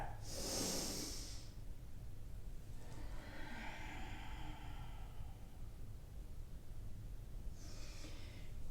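Slow yoga breaths, a strong nasal inhale followed by a long airy exhale, then another breath starting near the end, close and quiet with no talking.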